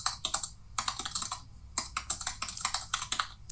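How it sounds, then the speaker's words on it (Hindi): Fast, bursty typing on a computer keyboard, clusters of rapid key clicks separated by short pauses, close and clear with no voices. "कहीं कहीं पे इतना स्पीड में टाइपिंग हो रही है"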